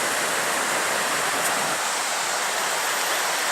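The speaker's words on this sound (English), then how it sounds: "this is waterfall" Tuitak Waterfall in Kumarghat, Tripura, a steady, loud roar of falling water filling the whole clip as an unbroken hiss-like rush with no pauses or voices.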